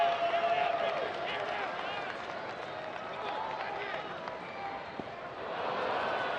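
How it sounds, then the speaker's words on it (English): A baseball stadium crowd at a Rangers game cheers and roars with a sustained wash of noise that swells toward the end, with some scattered clapping in it. "the crowd continuing to grow and continuing to raise the noise level"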